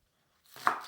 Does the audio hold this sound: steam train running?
no